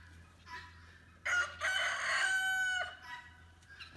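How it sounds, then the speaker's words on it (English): Several roosters crowing close by in a loud, sustained cock-a-doodle-doo that rises and holds for about a second and a half, with softer clucks and calls before and after against a low steady hum. "I have too many roosters, guys."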